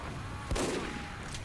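A single sniper rifle shot cracks out in Team Fortress 2, a brief sharp report against steady game background noise.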